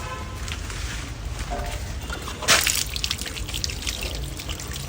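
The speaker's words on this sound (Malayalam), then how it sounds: "ഇനി ഇതിനെ നമുക്ക് ലേശം വെള്ളം ഒഴിക്കണം കേട്ടോ" Water poured by hand onto a freshly planted bougainvillea cutting, a steady close trickle and splash running for several seconds with a brief louder gush midway.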